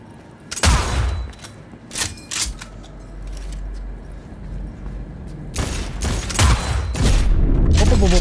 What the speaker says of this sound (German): Die Sniper ist geil.